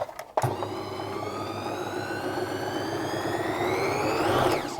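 A Bernina Type 289 sewing machine, freshly oiled at the rotary hook, starts with a click and then runs at steady speed, its motor whir climbing gradually in pitch, close up and continuous with no talking.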